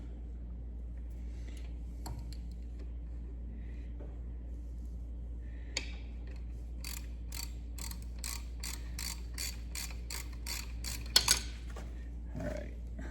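A ratchet wrench on a bolt of the CAV injection pump of a Kubota M6950 tractor, a quiet run of rapid clicks of ratcheting after a few clanks, then a sharp metallic knock, over a low steady hum.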